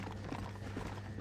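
Horse hooves galloping in the Western video game Red Dead Redemption, a steady rapid clip-clop of hoofbeats close by with a low background hum, no talking.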